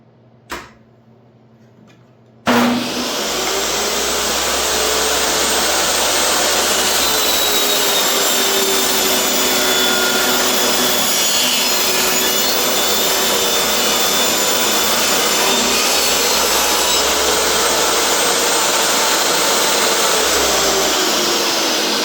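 A DeWalt table saw starts up with a sharp thump and runs at a steady, loud whine, cutting through wood in one sustained, even pass with no voices.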